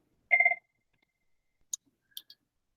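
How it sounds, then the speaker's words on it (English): A phone rings once with a short, clear electronic trill, followed after a pause by a few faint scattered clicks, all against near silence. "And that is my phone ringing"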